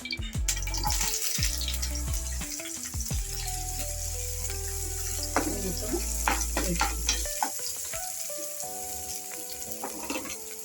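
Onions sizzle and crackle in a little oil in a kadai, with a utensil stirring and scraping through the steady frying noise and occasional clinks, close and continuous.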